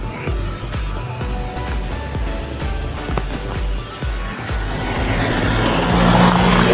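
Cars passing along a road at night in Khon Kaen, with loud engine roars and whooshing tire noise. One vehicle swells close near the end over a constant traffic rumble.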